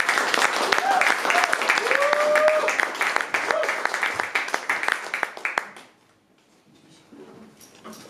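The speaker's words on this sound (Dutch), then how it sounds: "En ik wil ook daarom een hartelijke applaus" A concert audience at a cultural venue applauds a singer as she takes the stage, a loud, dense burst of clapping with some cheering voices that dies away after about six seconds, leaving near silence.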